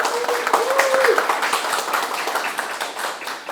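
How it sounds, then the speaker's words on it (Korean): An audience at a startup investment pitch event claps together in dense, continuous applause that slowly tapers, with a brief voice heard early on. "박수 부탁드립니다"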